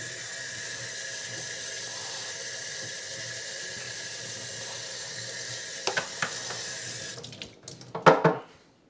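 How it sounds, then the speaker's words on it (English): Water runs steadily from the tap of a utility sink, a constant hiss that ends after several seconds in a few clattering splashes and knocks. "there's a utility sink right here next to it"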